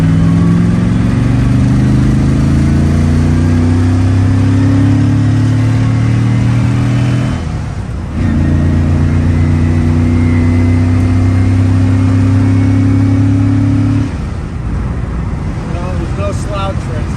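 A 1971 Aston Martin DBS V8 accelerates hard from a rolling start, its engine note climbing steadily through two long pulls separated by a brief shift, loud and close from inside the cabin with road noise beneath.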